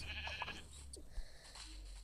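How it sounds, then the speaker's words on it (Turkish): A sheep bleats a couple of times in a hardcore-mode survival video game, short wavering cries that sound fairly close, over faint game ambience with no talking. "Neredesin koyun? Koyun gel buraya."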